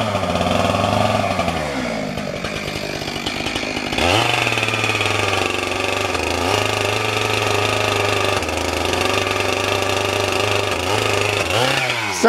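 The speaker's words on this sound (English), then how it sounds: "first he's got to get the chainsaw started" A chainsaw being started by two Amish men knocking down a house sputters through a pull, then catches and runs loud and close with a rough, uneven idle and throttle surges until the end.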